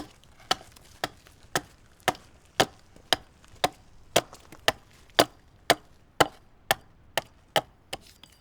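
A hatchet hacks at the angled end of a wooden beam for a shaving horse, about sixteen sharp, evenly spaced chopping thuds at a steady rhythm, close and clear with no talk.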